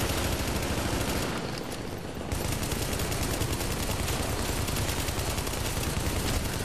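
Gunfire in The Division's Dark Zone fills the scene as a dense, continuous wall of loud shots and crackling impacts, briefly dipping before resuming at full intensity, with no voices.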